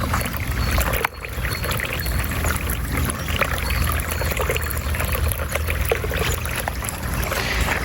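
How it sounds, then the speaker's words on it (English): Water trickling and splashing steadily from a backyard garden water feature, a continuous close wash of flowing water with no talk over it. "And this is a water feature right here that I put in"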